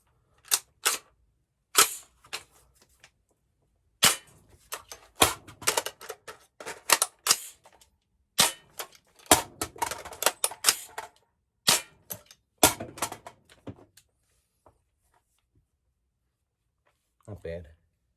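An AR-15 firing UTM practice training rounds at home, a series of sharp close-up cracks fired singly and in quick clusters with irregular pauses, the last shot after a long gap.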